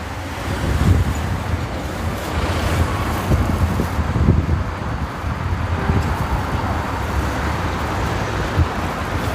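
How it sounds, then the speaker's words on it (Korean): Strong wind buffets the microphone outdoors at a street campaign rally by a bus terminal, with a constant roar and gusty rumbling swells, and faint traffic beneath it. "아 바람 엄청 부네요"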